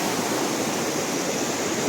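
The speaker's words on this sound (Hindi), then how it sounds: "यहाँ तो तैर भी सकते जहाँ ये ऊपर फैल के आ रहा है ना पानी, पर यहाँ पे इकट्ठा हो के आ रहा है। बहुत रफ्तार है भाई" Fast, powerful river water rushing at the Sangam confluence, a steady dense roar of flowing water filling the scene close by, with no voices.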